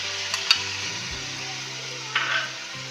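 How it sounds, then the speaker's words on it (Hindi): Ginger garlic paste sizzles with mutton in a karahi, a steady hissing fry with a couple of sharp spoon clinks against the pan, close and fairly quiet. "ये 2 खाने के चम्मच अदरक लहसुन का पेस्ट डाल रही हूँ मैं इसमें।"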